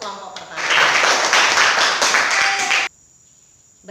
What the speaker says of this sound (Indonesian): Aplaus untuk kelompok pertama.